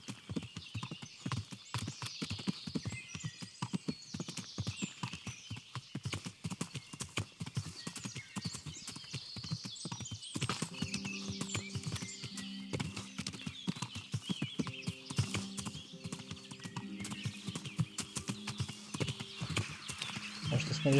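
A horse gallops in the medieval video game Kingdom Come: Deliverance, a quick, steady clatter of hooves through the whole stretch, faint and even, with soft tones from the game coming in partway.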